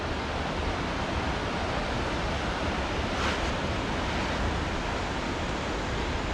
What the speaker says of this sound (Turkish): her yerden su fışkırıyor